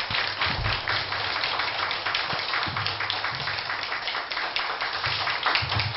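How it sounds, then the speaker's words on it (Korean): A lecture audience applauding steadily, dense continuous clapping throughout at a moderate, even level. "큰 격려의 박수 한번 부탁을 드립니다"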